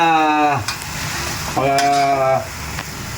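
Catfish stew (nilagang hito) stirred in a pot gives a few scraping, bubbling stir strokes close by, while a voice with a strong tonal quality sounds briefly in between.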